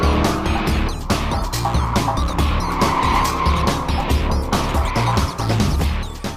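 A 2014 Chevrolet Camaro Z28 is driven hard on a California track, its engine roaring loudly up and down through gears while tires squeal and skid repeatedly, close and dominating throughout.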